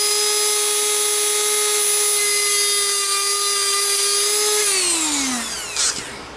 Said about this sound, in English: cut it off. Basically, simply with my Dremel bit here.